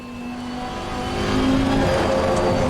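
A Lamborghini Huracan EVO2 race car in Assetto Corsa Competizione, its engine droning steadily with a rising rev tone that swells louder toward the end, heard alone.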